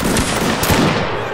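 A dense musket volley in Mount & Blade: Napoleonic Wars, loud, close and continuous as many shots crackle together in a rolling burst.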